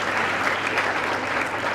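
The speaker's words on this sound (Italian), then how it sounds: "facciamo un applauso" Dense, steady applause from a crowd at an Italian school in Buenos Aires during a prime ministerial address, many hands clapping together in a continuous wash that fills the hall without any talk over it.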